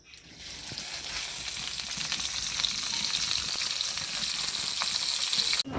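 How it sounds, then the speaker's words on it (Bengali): Garlic, chili and onion fry in hot oil, a loud, continuous close-up sizzle that swells in at the start, holds steady with small crackles, and then cuts off abruptly. "লাল লাল করে ভাজা হয়ে গেছে"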